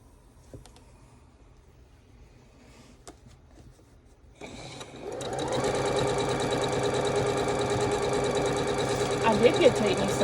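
A sewing machine starts up after near silence and runs steadily, stitching quilt borders with a fast, even mechanical whir and rattle that stays close and constant to the end.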